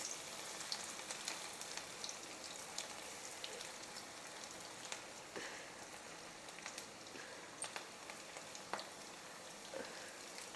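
Masala-coated ivy gourd pieces dusted with gram flour frying in hot oil, a faint, even crackle with scattered popping spatters, quiet and continuous with no one speaking.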